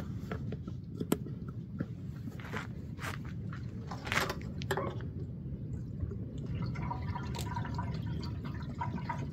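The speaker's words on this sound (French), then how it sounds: "on va remettre un peu de liquide de refroidissement" Coolant glugs and trickles from a jug into the cooling system of a bus engine, giving a steady liquid pour with scattered drips and small knocks, moderately faint, no talking.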